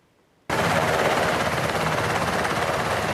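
A Black Hawk rescue helicopter starts abruptly and holds a loud, steady, dense rotor and engine roar for about three seconds, close and without talk.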